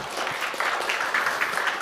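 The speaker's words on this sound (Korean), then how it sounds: "한번 박수 한번 보내주시면 감사하겠습니다" A Korean church congregation applauds during an afternoon worship service. The clapping is brief, moderately loud and evenly sustained, with no one speaking over it.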